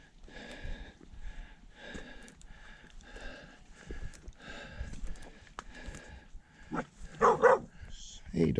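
A dog barking on a mountain trail near the summit of Tray Mountain, a series of short barks in a fairly steady rhythm, moderately close, followed by louder close-up sounds.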